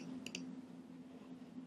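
Computer mouse used in a Unity 3D tutorial, two quick faint clicks in close succession near the start over a low steady hum.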